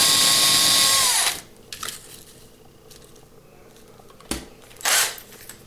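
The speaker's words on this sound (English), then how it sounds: "We get started by drilling out the single post." A power drill whines briefly at the start, drilling out a rivet post on a Hot Wheels Deora II toy car, then stops, followed by a few scattered knocks and clicks.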